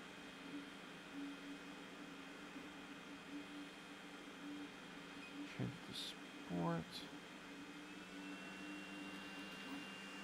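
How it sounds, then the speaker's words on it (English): An Elegoo Neptune 4 Max 3D printer running in sport mode after a hotend repair, a steady whirring fan and motor drone with brief faster stepper chirps midway. "the printer just kicked into another gear"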